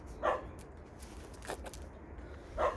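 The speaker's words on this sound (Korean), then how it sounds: "강아지 소리가 들리니까 반응을 해요." A dog gives three short, sharp barks spread over a few seconds, fairly close, with quiet room tone between them.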